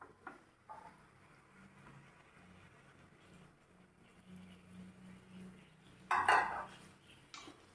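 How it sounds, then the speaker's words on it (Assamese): Flattened rice (chira) poured into a pan, a short rushing rattle of dry flakes that rises loudly for about a second amid quiet kitchen clatter and soft bumps. "চিৰাপখিনি ঢালি দিছোঁ।"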